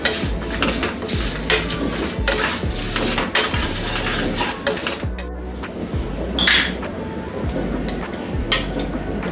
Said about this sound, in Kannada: ಈ ಪೌಡರ್ ಹಾಕ್ಕೊಂಡು ಇದನ್ನೆಲ್ಲ ಮಿಕ್ಸ್ ಮಾಡ್ಕೊಳ್ಳೋಣ ಚೆನ್ನಾಗಿ